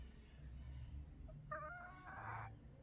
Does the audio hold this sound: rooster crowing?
yes